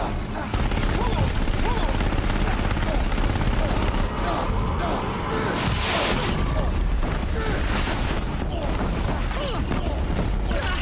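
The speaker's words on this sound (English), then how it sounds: "Hades, you see me just eating gunfire and bullets, right?" Gunfire in the video game Horizon Zero Dawn, with dense bursts of shots and booming impacts over continuous battle noise, loud and sustained, with a player talking through it.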